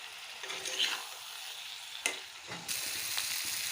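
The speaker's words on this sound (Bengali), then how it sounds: "এখন আমি ভাজাগুলো দিয়ে আর একটু সাঁতরিয়ে নেব" Spices, cumin powder and fish sautéing in hot oil in a pan give a steady, fairly quiet sizzle and hiss, with a few spoon-scrape and stirring clicks and no talking.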